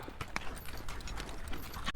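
Horse hooves clip-clop steadily on the ground during a ride near the ancient pyramids of Egypt, set against a noisy outdoor background.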